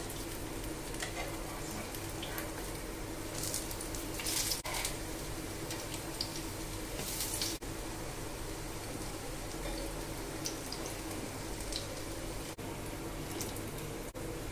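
Eggplant (brinjal) slices fry in hot oil on a low flame, giving a steady, close, continuous sizzle with no talking over it.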